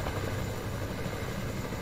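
A helicopter in Fortnite passes overhead as a steady, fairly faint rotor rumble that holds even for the whole short stretch, with no talk over it.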